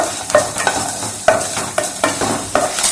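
Small onions fry in oil in a pan for sambar, giving a steady, close sizzle broken by several sharp spoon scrapes and knocks as they are stirred.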